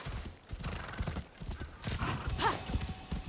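Pony hooves clip-clop in a video game, a soft, steady rhythm of footfalls at moderate distance with a faint whinny-like tone near the end.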